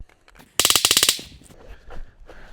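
A fast string of about ten close, loud cracks from an M&P 22 Compact pistol firing .22 LR rounds into a tree outdoors, followed by quieter handling noises.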